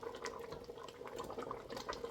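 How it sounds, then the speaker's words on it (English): Pineapple jam bubbles in a pot at a rolling boil, a continuous soft gurgling with small pops and splutters, close and quiet. "Okay, so we've got a good boil going here."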